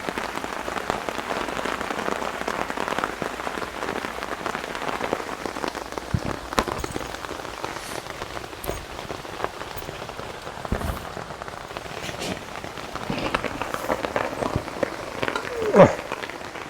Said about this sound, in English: this rain is torrential